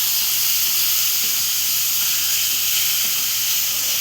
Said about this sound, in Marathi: त्यात टाकते तर मच्छी चांगले परतून घेऊया